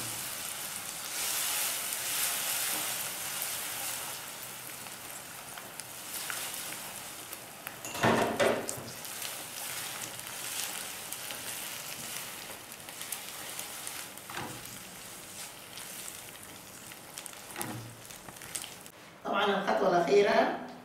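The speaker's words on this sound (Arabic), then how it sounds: "بعد ما السكر حلى بعدها نجي نكب عليها الحبوب." Grains for Laloob sweet poured into melted, golden sugar in a pan set off a steady, close sizzling hiss that runs throughout, swelling in brief louder bursts, with voices faintly present.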